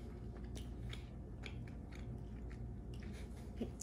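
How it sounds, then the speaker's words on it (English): Close chewing of a hard candy from the 1960s, with soft crunches and wet biting clicks in a steady rhythm over a low room hum, and no talking. "Once you chew it a lot, it gets softer. But it just takes a lot of chewing power."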